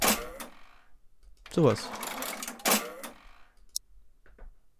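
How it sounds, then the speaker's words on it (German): A stock cash register gives a short, bright ka-ching ring, brief and partly masked by someone talking nearby. "Ich brauche mehr so diesen Kaching-Sound."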